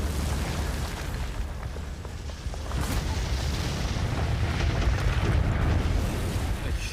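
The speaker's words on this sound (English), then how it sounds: "A huge explosion engulfs the bridge." Demolition charges detonate under the bridge at Remagen, a dense sustained roar of blast and rumbling debris filling the air with heavy low-end energy and no pause.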